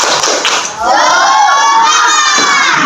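Schoolchildren shout a loud group cheer together, a dense chorus of young voices with a few thumps at the start, during a school leadership activity.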